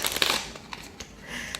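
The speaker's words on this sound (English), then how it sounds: "I'm shuffling on camera" Tarot cards being shuffled by hand during a reading, a run of soft papery riffles and flicks close up, bunched at the start and again near the end, with no talking.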